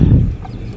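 Chickens cluck briefly in their coop on a rainy morning before being let out, a loud, close burst of fowl clucking that fades within a second.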